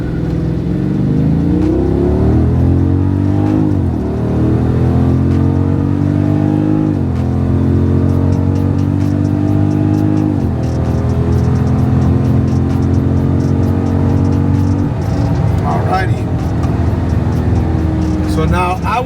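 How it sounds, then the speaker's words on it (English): A car accelerating hard on Nitto NT555 G2 tires during roll racing, heard close and loud from inside, with the engine rising in pitch through several gear shifts. "Now I'm driving the car."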